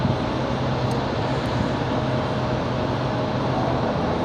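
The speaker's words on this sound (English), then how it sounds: "JetBlue in the A220 back to Boston." JetBlue Airbus A220 airliner at Raleigh-Durham airport, a steady broad jet engine roar held at a fairly distant, even level with no talk over it.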